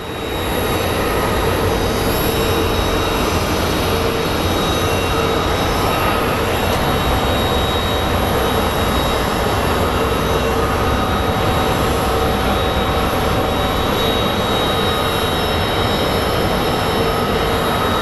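A Boeing 777 airliner moving on the ground at Phoenix Sky Harbor International Airport makes a continuous, loud broadband engine roar that holds steady throughout, with no one speaking.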